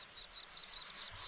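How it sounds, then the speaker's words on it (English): Baby birds calling from a nest in the rainforest canopy in Costa Rica, a rapid series of thin, high chirps repeating steadily through the clip, fairly close and moderately loud. "I heard the baby birds calling."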